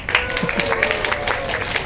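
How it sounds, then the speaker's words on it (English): A comedy-club audience claps for a volunteer called up on stage, a dense, steady round of applause lasting a couple of seconds with a few whoops mixed in. "give her a round of applause"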